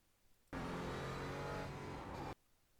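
A Porsche Cayman GT4 accelerates hard on a race track, a loud, steady engine roar that starts abruptly, holds for nearly two seconds with a slight pitch shift, then cuts off sharply.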